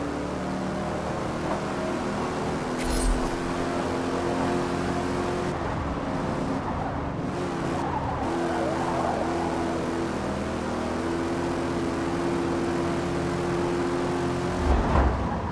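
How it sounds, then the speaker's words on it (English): A steady video game car engine hum drones on without a break, with a faint rise in pitch now and then and no voices. "The nice, comforting hum of an engine."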